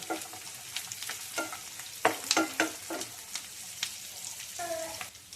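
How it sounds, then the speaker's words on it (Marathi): Garlic cloves and cashews fry in oil for an Indian bhaji amti curry, a steady sizzle with stirring scrapes and a few sharper clinks of the spoon against the pan, close and fairly loud with no talking. "हा लसूण घेतलाय 8-10 पाकळ्या, हा याच्यात तळून घेऊ"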